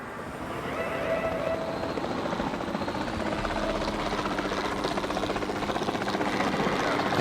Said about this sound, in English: Right, let's get in our chopper again.